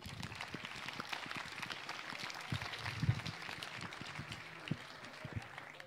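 Moderate applause from a poetry slam audience in Meppen, a dense patter of many hands clapping at an even level, somewhat distant and not especially loud.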